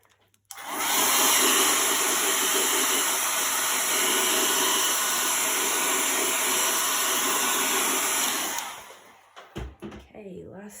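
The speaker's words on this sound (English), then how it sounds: "You just want to use the blow dryer, but just don't hold it too close to it" A hair dryer switches on and blows with a loud, steady roar for about eight seconds while drying a chalk transfer on a DIY lantern, then cuts off, followed by brief handling noises.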